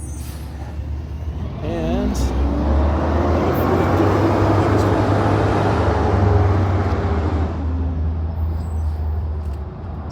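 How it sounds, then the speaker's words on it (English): Loud garbage trucks on garbage day rumble past a garden, a heavy engine drone swelling and holding for several seconds with a brief air-brake hiss, while someone talks over the noise. "it's garbage day, and the garbage trucks are really loud"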